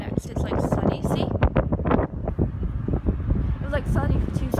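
Gusty wind buffets the microphone outdoors in a low, rough roar, with a voice partly heard beneath it.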